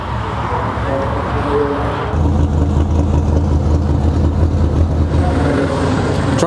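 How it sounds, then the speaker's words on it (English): A big carbureted 454 V8 engine rumbles loudly at a deep idle, then picks up in a steady throaty drone after a couple of seconds. "It's a 454 engine in this one with a carburetor."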